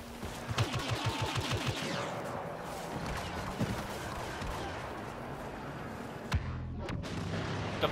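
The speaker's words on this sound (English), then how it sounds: "There's like explosions everywhere." Dense rolling explosions and rapid gunfire in the Walker Assault mode of a shooter video game, with a steady barrage of booms and rattling shots layered close together throughout, plus a sharper blast near the end.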